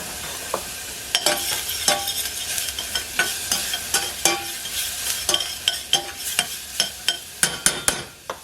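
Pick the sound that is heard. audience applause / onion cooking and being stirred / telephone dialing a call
onion cooking and being stirred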